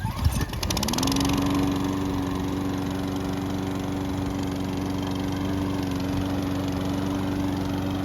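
A newly bought lawn mower engine catches after a short start-up sputter, then settles into a loud, steady, close-up drone with no voices.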